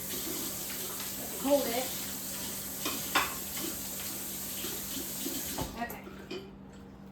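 Tap water runs steadily while a spoon is rinsed off at a kitchen sink, with small clinks and splashes near the mic; a person speaks briefly over it.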